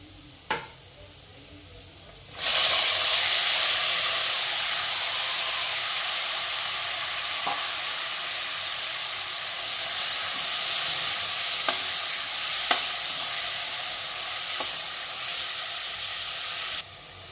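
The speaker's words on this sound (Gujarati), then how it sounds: "આપણા ટામેટાં આપણે મિક્સ કરી દીધા છે" Chopped tomatoes land in a pan of hot garlic paste and break into a loud, steady sizzle lasting the rest of the clip, with faint spoon scrapes and taps as they are stirred, after a brief quieter start.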